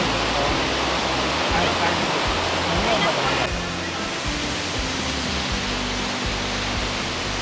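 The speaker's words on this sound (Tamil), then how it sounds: "பார்த்தீங்கன்னா 7th highest waterfall in India." Seven Sisters waterfall near Kynrem, one of India's highest, water plunging from above as a constant broad roaring rush, loud and steady throughout, easing slightly in the second half.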